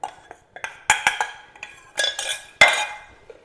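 Edible gum roasts in a heavy-bottomed kadhai, with a run of sharp metallic clinks and scrapes of a utensil against the pan, loud and close, spaced irregularly over a quiet background.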